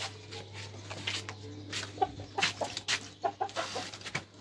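A hen clucks right after laying an egg on a rabbit farm, a series of close, sharp, uneven clucks that grow busier toward the end, with no talking.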